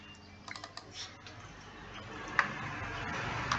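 Light keyboard typing as a title is entered into an Excel spreadsheet, with sparse soft key taps early on and a few isolated clicks later over a steady low background hum.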